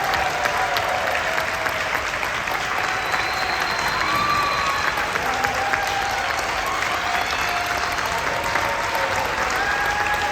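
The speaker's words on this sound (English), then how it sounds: "give another huge round of applause and standing ovation for these students" A school pep rally audience gives a standing ovation for student performers, with steady, dense applause filling the hall throughout and light crowd noise beneath.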